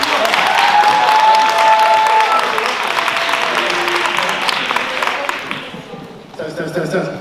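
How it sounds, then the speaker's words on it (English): A youth theater audience claps loudly after an adolescent skit, with whistles and cheers over dense clapping before it thins and fades, leaving a few scattered claps and voices. "Let's clap them up."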